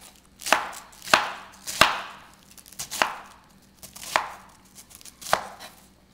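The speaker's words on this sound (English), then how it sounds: "and then just very coarsely chop it up" A knife coarsely chopping cabbage on a cutting board, six distinct crisp chops at a slow, steady pace, close and clear with no talking.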